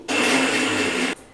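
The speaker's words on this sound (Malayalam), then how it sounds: "തണുത്ത് കഴിഞ്ഞിട്ട് അരച്ചെടുക്കുക." An electric blender grinds a cooled, cooked tomato soup mixture in one steady, loud whir lasting about a second, starting and stopping abruptly, alone.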